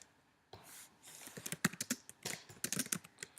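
Rapid typing on a computer keyboard, irregular clusters of crisp key clicks close to the microphone, starting after a brief quiet moment and continuing alone without speech.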